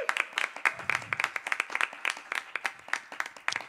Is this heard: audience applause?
yes